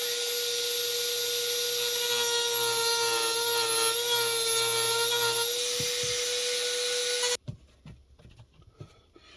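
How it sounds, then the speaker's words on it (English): A Dremel rotary tool cuts a line between drilled corners for a battery box, a loud, steady high-pitched whine that holds for several seconds, then cuts off, leaving faint handling clatter and scraping. "grab the Dremel, and then we're just going to connect the dots here"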